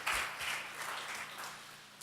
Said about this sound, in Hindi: जोरदार तालियों से उनका भी स्वागत करें